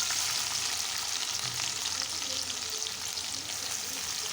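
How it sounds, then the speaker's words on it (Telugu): Onions and green chillies fry in hot oil, giving a loud, steady sizzle that keeps up without a break, with faint scraping from stirring under it and no voices. "ఉల్లిపాయలు బాగా వేగనిద్దామండి."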